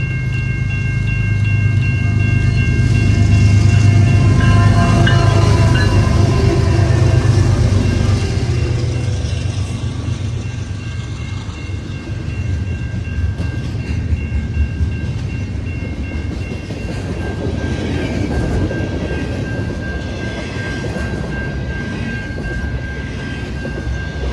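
A freight train running from St. Paul, Minnesota to Cicero, Illinois rumbles past nearby, loud and continuous, with deep engine drone and steady rolling wheel noise, horn tones fading as it passes.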